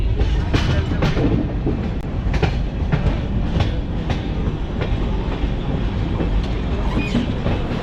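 Vivek Express passenger train rolling along the rails in India, a steady loud rumble with rhythmic clickety-clack of wheels over rail joints heard from on board, with no talking.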